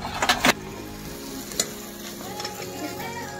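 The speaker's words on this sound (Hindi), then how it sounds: "मसाला पकने रख दिया" Masala sizzles and fries in a pan, with a burst of loud stirring clatter at the start and a single scrape later, then a steady soft sizzle continuing alone.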